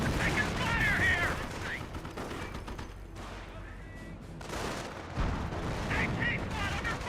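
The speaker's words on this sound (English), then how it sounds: "Taking rifle fire!" Rifle fire in the World War II strategy game Company of Heroes: rapid, continuous crackling gunshots and distant blasts under in-game voice callouts and a live commentator talking.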